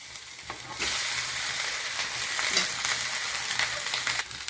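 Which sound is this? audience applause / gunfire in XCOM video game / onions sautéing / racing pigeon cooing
onions sautéing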